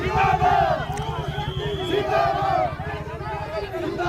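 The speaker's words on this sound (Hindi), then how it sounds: "राहुल गांधी को सुनने के लिए लोगों की वहां भीड़ थी।" Crowd gathered around a visiting politician at a market in Leh, Ladakh: loud overlapping voices and shouting, a dense, lively hubbub throughout.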